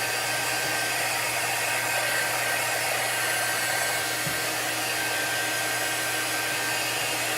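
A hair dryer runs steadily throughout while drying a chalk art piece, a loud continuous blowing hiss with a low motor hum, with no talk.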